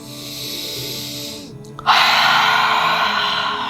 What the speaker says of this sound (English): we're going to take some cleansing breaths in through the nose and out through the mouth